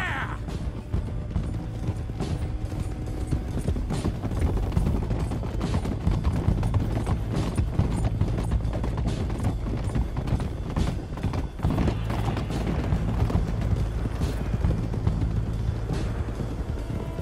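Several horses gallop together in Red Dead Redemption 2, a dense, continuous rhythmic drumming of hooves with creaking tack, steady and close throughout.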